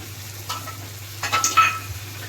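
Pomfret fish frying in a pan, a soft steady sizzle over a low constant hum, with a few brief stirring scrapes and crackles midway.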